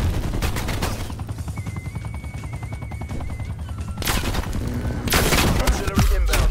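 M16 rifle firing three-round bursts in Call of Duty: Black Ops Cold War, with rapid repeated gunfire cracks, a dense stretch of shots and louder bursts near the end.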